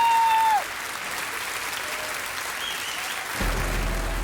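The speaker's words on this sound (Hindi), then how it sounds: "तो तालियों के साथ स्वागत करते हैं कमाल परफॉर्मर मयूरी जी का।" An audience gives steady, dense applause to welcome a performer on stage, a broad clapping wash that carries on throughout and swells slightly near the end, after a brief tone at the start.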